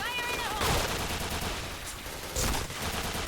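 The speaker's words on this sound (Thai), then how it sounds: "ผมยิงค้างเลยนะ ผมไม่ได้ยิงคุมอะไรขนาดนั้นอะ ผมค้างแล้วก็ลากเอา" Sustained automatic gunfire in a shooting video game keeps up a dense, continuous rattle of shots, with louder bursts standing out near the start and again toward the end.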